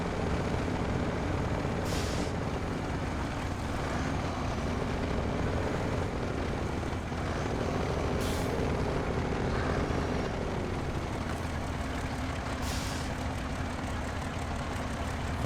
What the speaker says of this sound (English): the audio that I can hear from your engine sounds really broken